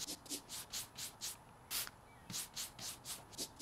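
Spray cleaning in House Flipper 2 makes short hissing spritzes, about a dozen quick bursts in an uneven rhythm, fairly soft and with no talking.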